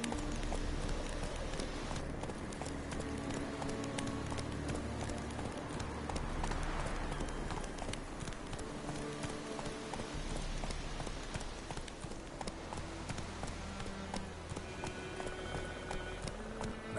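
Steady clip-clop of hooves from Geralt's horse Roach in The Witcher video game, a continuous trotting rhythm close by, layered over rain-like ambience and faint music.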